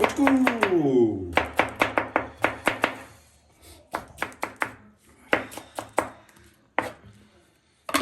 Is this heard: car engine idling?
no